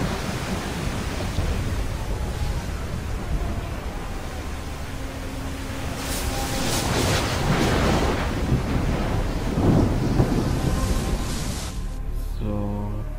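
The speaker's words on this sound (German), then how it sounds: "Ich glaube, wir haben den Sturm überstanden." Stormy sea inside Assassin's Creed 3: steady roaring wind and surf noise washing over the whole stretch, swelling louder in the middle with rumbling gusts, then thinning near the end.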